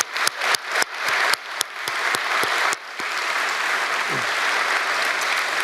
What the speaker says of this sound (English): So let's give them a big round of applause, please.